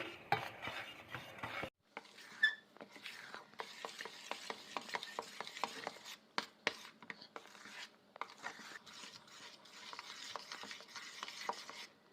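Dough for ariselu, a rice-flour festival sweet, being stirred and mixed by hand in a bowl, giving a busy run of soft scraping and rubbing strokes with frequent small knocks, close and fairly quiet, with no talk.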